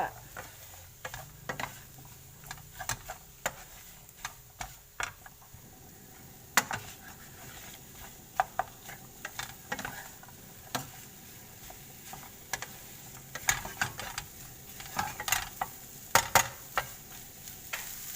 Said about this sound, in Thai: คั่วเลยจ้ะไข่คั่ว